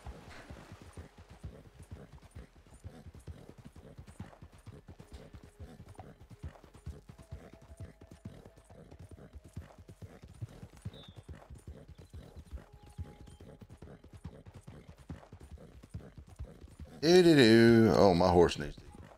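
A horse in the Red Dead Redemption video game moves at a steady pace, its hooves giving a continuous clip-clop rhythm throughout, before a loud burst of other game sound near the end.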